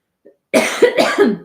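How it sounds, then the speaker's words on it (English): A close, loud burst of several rapid coughs, irritated by candle smoke, follows a brief faint sound, harsh and chesty, with no speech. "I think that's why I'm coughing"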